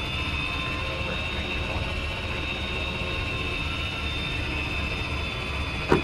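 Helicopters in the military video game Arma produce a steady, moderately quiet rotor and turbine drone with a high whining tone, continuous for several seconds under a faint hum of radio chatter.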